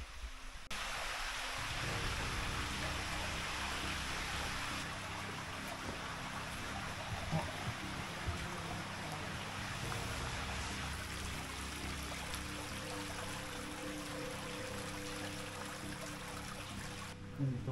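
Water flowing down through an old mine, a steady rushing trickle and pour echoing in an underground passage, constant and fairly faint throughout.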